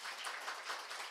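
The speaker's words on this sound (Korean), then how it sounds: "우리 기도하시는 분들이 박수 한번 주세요." A church congregation gives a brief burst of applause, heard faint and distant as a soft, even patter of clapping.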